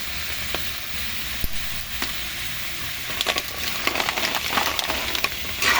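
Mussels cooking with malunggay leaves in a pan, a steady close sizzle and bubbling hiss with a few scattered pops and light clinks, with no voices.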